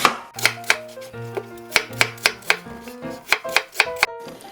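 A knife chops ginger and peeled, seeded pear on a cutting board in a run of sharp, close, evenly spaced thuds, about a dozen strikes with short ringing tails.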